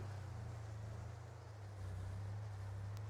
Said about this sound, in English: Pickup truck's doing all right with it.